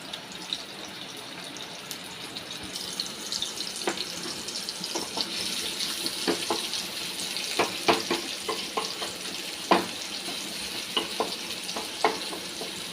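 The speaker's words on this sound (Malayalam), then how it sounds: "ആദ്യം നമുക്ക് ഉള്ളി വഴറ്റാം." Sliced onions sauté in hot oil for a coconut and chana dal chutney, giving a steady soft sizzle broken by scattered scraping and stirring clicks, close and alone without talk.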